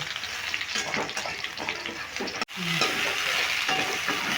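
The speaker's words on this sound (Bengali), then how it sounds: "ঝিঙেটা একটু হালকা লালচে করে ভেজে নেব" Ridge gourd pieces frying in oil in a pan, a constant close sizzle with occasional stirring scrapes and a brief clatter near the middle, no talking.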